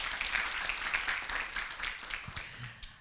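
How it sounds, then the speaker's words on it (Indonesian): An audience at a student orientation event applauds in a steady, dense wash of clapping that carries on for about three seconds without fading. "Tapi sebelumnya kita minta tepuk tangan dulu untuk penyemangat sore hari ini."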